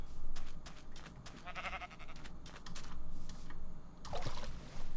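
Sheep in the video game SurvivalCraft give a couple of short, fairly faint bleats over a constant background hum, with light keyboard clicking scattered through.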